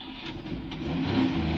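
A car engine hums and rises steadily in a short, close burst, a low droning note that grows louder toward the end with no voices.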